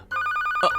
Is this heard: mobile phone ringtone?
yes